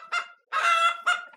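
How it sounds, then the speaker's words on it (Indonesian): A chicken, an egg-laying hen brought as a gift, gives three loud, harmonic squawking calls in quick succession, the middle one longest, close by with nothing else around. "Ayam ini bertelur banyak."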